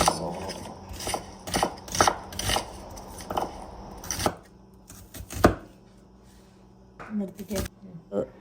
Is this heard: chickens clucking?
no